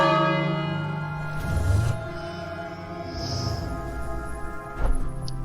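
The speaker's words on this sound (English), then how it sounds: "would I ring that bell?" A bell rings in the fantasy adventure game King's Quest, a resonant church-like tone that sustains over a steady game background with a few soft clanks, moderately loud and without speech.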